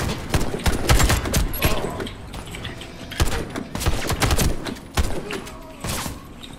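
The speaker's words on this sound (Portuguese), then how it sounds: "Já tá atirando, TP." Rapid bursts of automatic gunfire in a Warface assassination-mode match, loud and close with short pauses between volleys, while players talk over the shooting.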